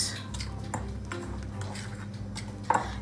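A utensil scrapes and taps inside a bowl while cookie batter is mixed, soft irregular clinks and stirring, fairly quiet with one sharper knock near the end.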